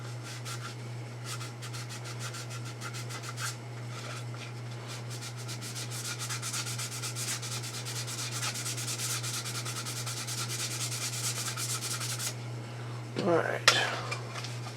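Sandpaper rubs back and forth over filler in quick, faint, rhythmic strokes under a steady low hum, ending with a few louder knocks.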